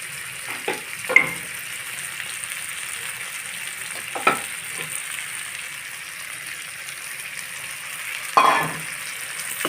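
Spices frying in a pan for a fish curry just after a little water is added, a soft continuous sizzle with a few sharper spatters and scrapes.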